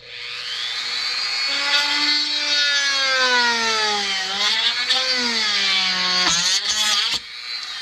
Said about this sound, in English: so we need to drill one right here.